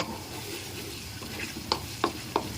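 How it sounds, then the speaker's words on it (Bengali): Cubed tomatoes frying in a pan, with a steady soft sizzle and a few sharp clicks of stirring near the end, no voices. "এখন টমেটোগুলো দিয়ে দিলাম। টমেটো কিউব কিউব করে কেটে নিয়েছিলাম।"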